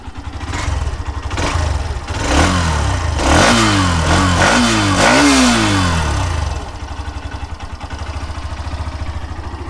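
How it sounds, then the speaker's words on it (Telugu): A Hero Xtreme 125R, a 125cc sporty motorcycle, idles with a steady exhaust note, then revs sharply three times in quick succession before settling back to idle, loud and close. "మీకు ఒకసారి ఎగ్జాస్ట్ సౌండ్ వినిపిస్తాను."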